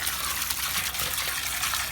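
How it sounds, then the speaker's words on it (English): Water gushing steadily while a pond filter is back flushed, a broad continuous rush that stays near and loud from start to finish with no talk over it. "we're pushing all this water in from here and it's flowing the opposite direction"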